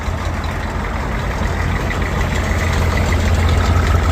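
A Ford 300 inline-six idles steadily, a loud, close, even engine rumble with a constant low throb and no talk over it.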